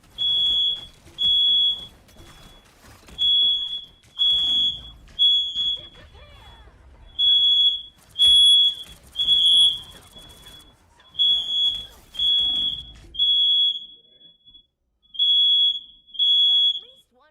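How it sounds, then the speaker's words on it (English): A home smoke alarm goes off with loud, piercing high-pitched beeps in repeated bursts of two to three, pausing briefly between groups, while a person talks faintly underneath for much of the time. "Hold on, my fire alarm is going off."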